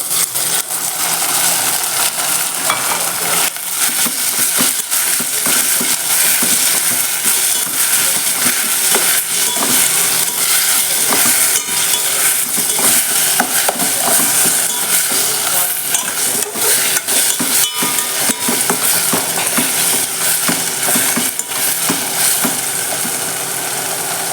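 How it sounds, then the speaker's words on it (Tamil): Tomatoes sautéing in a pan for a brinjal and drumstick kurma give off a steady, loud sizzle and fry, with scraping stirs scattered through it and no voices. "தக்காளி நல்லா வதங்கிடுச்சு"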